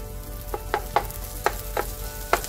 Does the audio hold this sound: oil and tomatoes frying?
yes